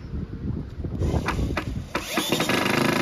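A power screwdriver drives screws into a model railway point motor, its motor whirring in short bursts with clicks and handling knocks at close range.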